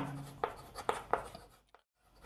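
Pen scratching on paper during a math lesson, a few short separate strokes close by, fairly quiet, and then a brief pause into near silence.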